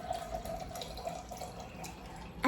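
Water runs from a tap into a pot for cooking rice, a faint steady trickle with light dripping close by, no voices, ending in a brief knock.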